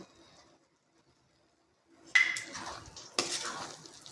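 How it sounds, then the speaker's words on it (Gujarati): A spoon scrapes and clinks against a pan while vaghārelo rotlo, a tempered crumbled millet flatbread, is stirred with fresh coriander. Two bursts of metallic stirring follow a quiet pause. "તો હવે આપણે ઉપરથી લીલા ધાણા નાખીને બધું જ મિક્સ કરી લઈશું."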